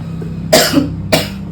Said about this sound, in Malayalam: ഞാൻ ഇടയ്ക്ക് ചുമ വരുന്നത്